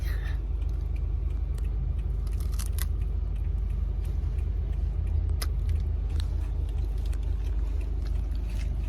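Inside a moving car on the road, a steady, loud low rumble of engine and tyres continues throughout, with faint scattered clicks and rattles from the cabin.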